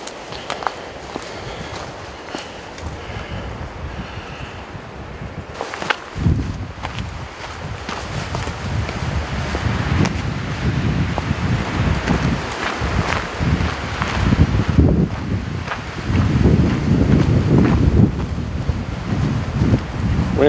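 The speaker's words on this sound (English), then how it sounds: "Windy up here, friends." Gusty wind on the hilltop at Mount Pisgah, at the site of Buck Spring Lodge, buffets the microphone and strengthens after a few seconds, with footsteps crunching underneath.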